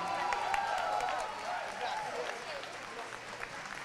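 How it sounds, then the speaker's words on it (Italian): Applause from an audience at a school music recital, moderate and steady for a few seconds before thinning, with a voice partly audible over the clapping. "bel applauso"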